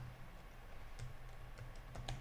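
Quick keystrokes on a computer keyboard as a web address is typed, a few faint clicks spread irregularly over a quiet room hum.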